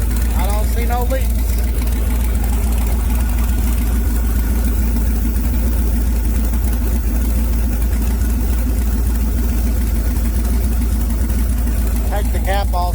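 An LS swap engine idles steadily in a car with a deep, loud low-end rumble, constant and close, while people talk briefly near the start and end.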